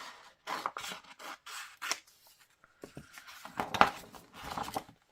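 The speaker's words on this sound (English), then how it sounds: "So I'll cut that out." Scissors cut out a paper template from a Christmas craft kit, several crisp snipping bursts with short pauses between them, close and clear, no voices.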